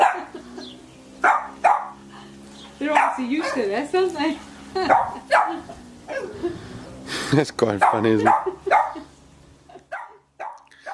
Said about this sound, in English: a little barking Boston Terrier